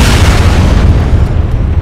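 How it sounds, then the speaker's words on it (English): A grenade explodes in the ArmA 3 video game, a loud deep rumbling boom that fills the whole moment and slowly fades, heard alone without talk. "Grenade away."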